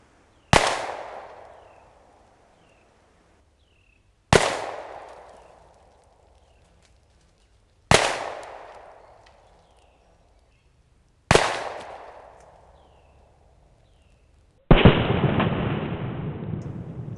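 Five loud, sharp outdoor gunshots from a 1911/Mech-Tech carbine in .45 ACP fired at a melon, spaced several seconds apart, each ringing out with a long fading echo, the last one harsher and more sustained.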